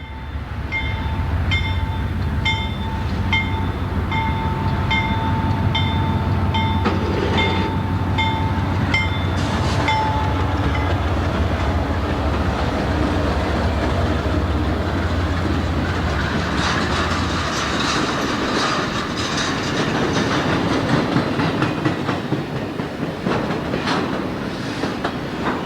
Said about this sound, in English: Ed recorded the mixed time freight / piggyback train